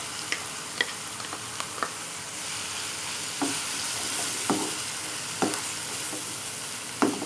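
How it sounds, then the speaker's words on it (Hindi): Spinach sautés in a pan with a steady sizzle, while a spoon scrapes and taps the pan at a slow, irregular pace, close and clear, with no talk. "हल्का सा इसे हम भून लेंगे"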